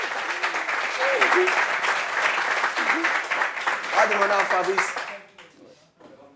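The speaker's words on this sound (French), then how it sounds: "On applaudit pour elle." An audience applauds warmly, with a dense patter of clapping under overlapping voices and someone speaking over the top. The applause dies away abruptly near the end.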